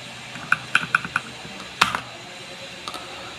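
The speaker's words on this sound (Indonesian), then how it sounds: "Ketik data read.excel." Computer keyboard keys clatter as a data-import command is typed, a quick burst of about five close clicks, then a louder pair of strokes and one faint late tap.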